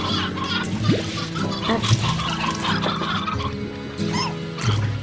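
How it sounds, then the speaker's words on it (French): Fowl clucks and gobbles from a chick in the Slime Rancher video game, short bird calls repeating over a busy game soundscape, with a brief spoken word. "Et donc là il y a un poussin."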